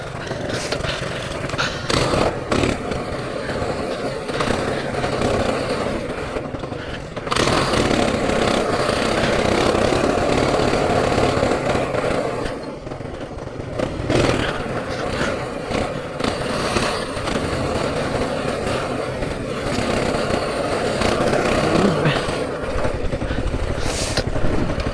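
A minibike engine drones loudly and steadily on a trail. The pitch rises and falls through the ride, with rattling and jolts along the way.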